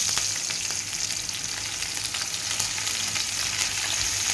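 Green chillies fry with garlic and cumin in hot oil for dal, making a steady, close hiss of bubbling with light crackle and no voices.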